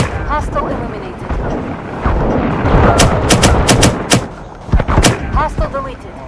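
Shotgun blasts crack out in the Firewall Zero Hour shooter game, several sharp, loud shots in quick bursts amid a busy rumbling firefight, with a voice heard briefly.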